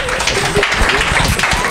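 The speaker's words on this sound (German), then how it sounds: "Einen dicken Applaus vielleicht mal." Applause from the audience at a Austrian football federation (ÖFB) press conference presenting the new Puma home kit, a dense close clapping wash with faint voices mixed in.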